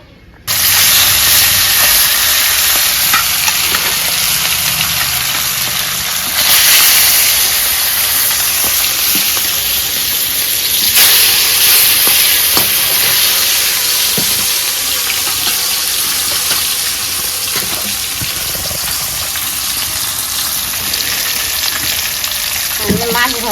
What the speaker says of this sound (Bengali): এখন আমি মাছ ভেজে নেবো।